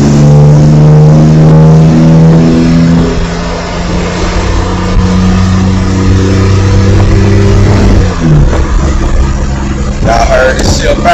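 A 1994 Chevy OBS pickup accelerating hard onto the freeway, its loud engine droning and climbing in pitch through the revs, with a shift and fresh surge near the end.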